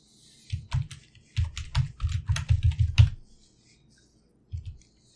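Someone types on a computer keyboard to enter a password: close, crisp key taps in quick bursts, a short pause, then a final pair of taps, with no voices.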